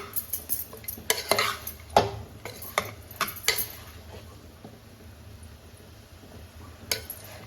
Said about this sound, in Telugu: బాగా ఫ్రై చేసుకొని ముందుగా కడిగి పెట్టుకున్న కొత్తిమీర పుదీనాను యాడ్ చేసుకొని బాగా కలుపుకుంటూ ఫ్రై